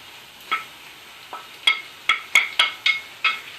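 Pork being stirred back into a thick, gloopy sweet and sour sauce in a pan, a series of soft wet clicks and scrapes from the spoon, about eight short sounds over a quiet background.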